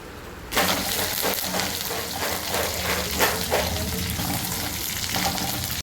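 Ground spices such as turmeric, chilli and coriander powder stirred into hot oil in a pan for madura puli, giving a steady close sizzle with scraping stir strokes, starting abruptly after a brief quiet moment.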